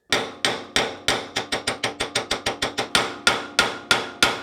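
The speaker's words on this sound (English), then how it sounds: "Once the race is fully seated, you'll hear the sound will change to a high-pitched clanging." Hammer driving a bearing race into a Toyota Land Cruiser swivel hub knuckle, a fast run of about twenty sharp ringing metallic strikes in an uneven rhythm, close and loud, each clang decaying quickly.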